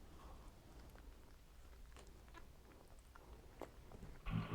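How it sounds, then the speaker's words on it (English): A bite into a Taco Bell breakfast crunchwrap with hash brown, a few faint, close crunchy chews over quiet room noise, followed by a louder burst at the end. "Slight crunch from the hash brown."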